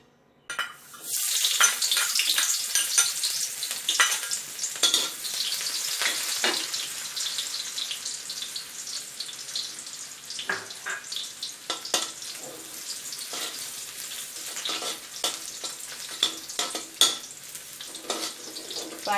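Sliced shallots frying in a pan over a medium-low flame: a steady, broad sizzle after a quiet start, close and fairly loud, with crackles and pops scattered through it and no talk.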